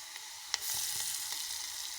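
Onions fry in a pan with turmeric and salt for a North Karnataka potato palya, making a steady, bright sizzle with a few light stirring taps near the start.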